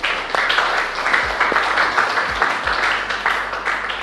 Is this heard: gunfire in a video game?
no